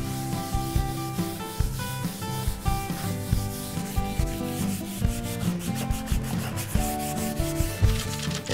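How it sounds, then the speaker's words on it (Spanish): Wooden furniture is sanded by hand, with steady rhythmic rubbing strokes that are close, moderately loud and continuous, with no talk. "vamos a lijar y vamos a cambiar totalmente estos muebles"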